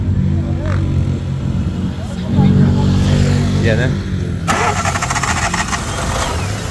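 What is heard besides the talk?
Fiat Uno car engine being started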